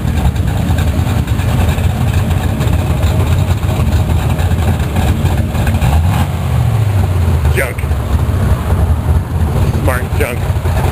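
A Chevy with a 383 stroker engine idles nearby with a deep, steady low rumble, while a few short sharp sounds cut in near the end.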